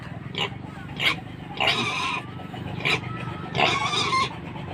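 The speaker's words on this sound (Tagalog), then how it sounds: "mga baboy" Pigs at a home where the animals were just washed in the sea, giving several grunting and squealing bursts at close range over a low steady background hum.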